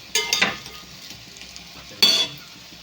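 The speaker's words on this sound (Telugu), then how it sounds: "ఇవి అయితే తీసేసుకున్నామండి ఇవైతే వేరే బౌల్లోకి అయితే తీసేసుకుందాం" Fried meal maker chunks being lifted out of a hot oily pan with a metal spoon and moved into another bowl: two bright scraping clinks over a steady soft sizzle, close and alone.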